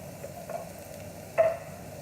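Mushrooms and zucchini sizzling in a pan, a faint, low hiss with a few small ticks and one brief louder clatter near the end.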